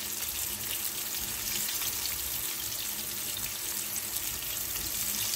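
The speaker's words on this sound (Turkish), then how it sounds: "Bazen de tavamızı sallayarak muzlarımızı kızartacağız." A constant crackling sizzle of bananas frying in hot oil in a pan, close and steady with no voices.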